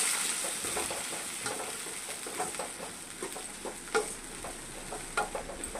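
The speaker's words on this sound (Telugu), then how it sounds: "ఆ పల్లీలు వేగిన తర్వాత అదే ఆయిల్లో కొద్దిగా పచ్చిమిర్చి, కొద్దిగా కొత్తిమీర, వెల్లుల్లి వేసి పచ్చివాసన పోయేంత వరకు వేయించుకోవాలి" Peanuts, green chili, coriander and garlic frying in oil in a small pan, a steady close sizzle with soft stirring scrapes and taps.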